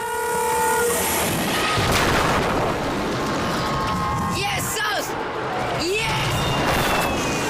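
Train in a French TV advert: steady loud rail rumble and rolling clatter fill the clip, with a horn-like tone at the start and sharp knocks later, under voices.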